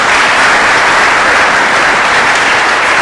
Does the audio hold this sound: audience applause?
yes